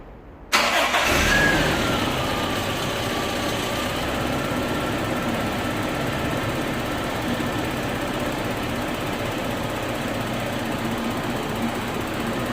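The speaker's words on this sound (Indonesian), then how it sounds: "Oke, dan mesin menyala dan kita dengarkan suaranya tidak ada yang mencurigakan ya, suara-suara aneh." A Toyota Kijang LGX EFI 1.8 car engine cranks briefly, catches and settles into a steady, even idle that runs close and continuous to the end, with no talk over it.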